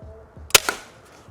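Steambow B08 crossbow at a 150 lb draw fired once, a sharp snapping crack followed quickly by a second thud as the bolt strikes, set against quiet.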